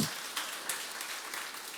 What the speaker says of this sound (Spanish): Si lo crees, dale palmas, apláudele al Rey, apláudele